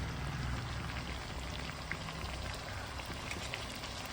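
Fish pieces frying in a pan of hot oil for fish biryani, a steady close crackling sizzle with scattered pops running throughout, no talk over it.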